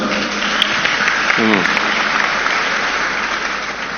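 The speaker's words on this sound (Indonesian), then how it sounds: "Tepuk tangan buat Ridho" Students at a Gontor boarding school gathering in Ponorogo break into dense, loud applause that carries on steadily, with a brief voice heard over it early on.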